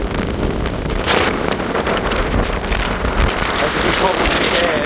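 Strong, cold wind buffets the microphone on the forward observation deck of a DFDS ferry sailing between Newcastle and Amsterdam, a loud continuous roar with ocean and hull noise beneath and speech partly buried in it.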